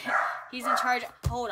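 A dog barks in short loud bursts, reacting to someone outside, while a person talks close by over the barking.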